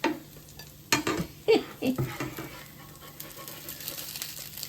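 Pancake batter sizzling in a frying pan while being flipped, soft scraping and clattering bursts of the spatula over a steady frying hiss.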